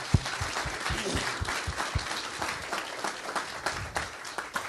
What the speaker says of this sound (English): round of applause for Engineer McCourt